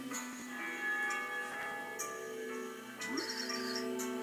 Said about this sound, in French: J'entends des cloches